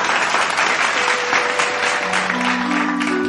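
Crowd at an outdoor stage show in Odisha clapping loudly to welcome a singer, a dense, continuous burst of applause with a faint sustained tone from the stage rising underneath near the end.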